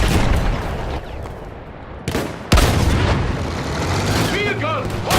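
A field gun and surrounding gunfire in the Battlefield 1 war game, with dense, loud booms and crackling shots, including a sharp, heavy blast midway, while voices shout over the battle noise.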